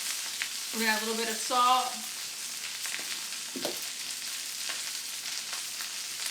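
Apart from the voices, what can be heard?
kale sizzling in oil in a pan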